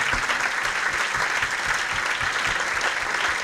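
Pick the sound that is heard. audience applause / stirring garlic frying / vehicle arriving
audience applause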